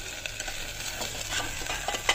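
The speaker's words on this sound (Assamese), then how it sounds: "আৰু এইখিনি অকণ ভাজি ল'ম" Raw banana pieces fry in a pan, a soft steady sizzle with scattered stirring clinks and scrapes, close and fairly quiet, with no talking.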